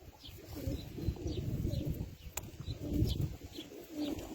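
Tumbler pigeons coo softly in low, repeated calls, with faint chirps and rustling close by in a quiet space.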